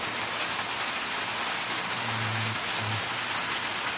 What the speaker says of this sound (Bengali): প্রচুর বৃষ্টি হচ্ছে এখন, প্রচুর